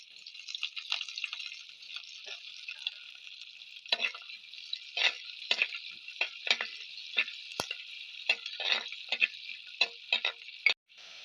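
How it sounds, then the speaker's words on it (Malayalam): Shallots, chili, curry leaves and garlic fry in hot oil, giving a steady close sizzle. Irregular crackles and pops and stirring clicks land throughout. "അപ്പോൾ നമ്മുടെ ചെറിയ ഉള്ളിയും പറങ്കിയും കറിവേപ്പിലയും വെളുത്തുള്ളിയും മൂത്ത് വന്നിട്ടുണ്ടേ"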